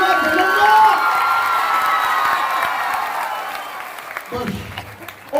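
A live comedy show audience applauds and cheers loudly, the clapping fading over several seconds and then rising again near the end, with a voice speaking over the crowd.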